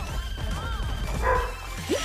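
A robot dog in Fall Guys barks in a quick yapping burst, a few bright electronic-sounding yips over a busy game backdrop.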